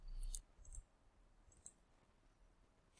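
Computer mouse clicks during an online application walkthrough, a few sharp faint clicks spaced apart against a quiet room.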